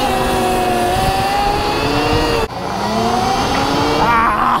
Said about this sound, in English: this is the coolest electric dirt bike I've been on in a while